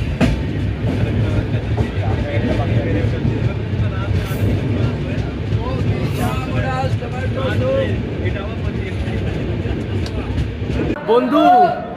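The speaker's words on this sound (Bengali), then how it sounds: "আর আমাদের ট্রেন বেশ ভালোই গতিতে ছুটছে।" Howrah Jodhpur Express running at speed at dusk, a continuous rumbling rail drone with rhythmic clatter heard from inside the coach, with voices audible over it.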